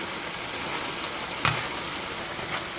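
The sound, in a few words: stirring meat sauce thickened with xanthan gum in a pan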